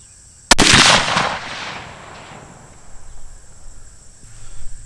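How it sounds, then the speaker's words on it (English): A single loud .308 shot from a Savage Stevens bolt-action hunting rifle during a sighting-in session outdoors, a sharp crack followed by a long fading boom and rolling echo, then quiet outdoor background. "we'll shoot another one here and see what the groupings start to look like."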